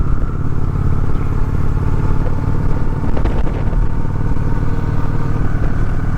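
A Honda 1800 motorcycle engine runs steadily while riding, a continuous loud rumble with some mechanical clatter, heard up close without any talk.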